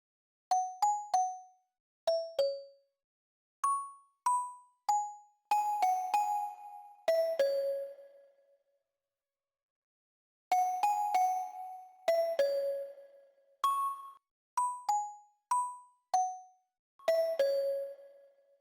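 A melodic bell sample plays a sequence of clear, ringing strikes with short decays, then repeats the phrase run through an AudioThing Vinyl Strip plugin, the later notes warmer with longer, grittier tails.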